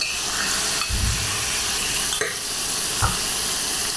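Prawns fry in mustard oil in a pan, a steady close sizzle and hiss with a few soft stirring scrapes rising over it.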